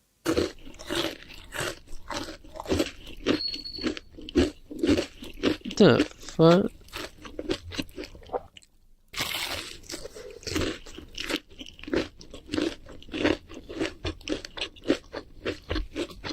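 Loud, rapid crunching from someone eating close by, repeated bites over speech-like talk and background noise, with a brief pause midway.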